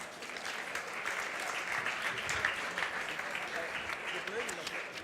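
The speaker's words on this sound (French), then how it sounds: "Merci de les applaudir bien fort." A VivaTech conference audience applauds a panel of speakers, a thick, continuous patter of clapping at moderate distance, with some murmured voices mixed into the crowd noise.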